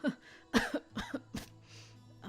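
A soft, breathy cough at close range, preceded by quiet, shaky vocal sounds like a faltering laugh, fading into low murmuring.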